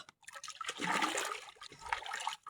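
Strong river current rushing at a fishing spot, a close, turbulent whoosh of moving water that swells and ebbs over a couple of seconds.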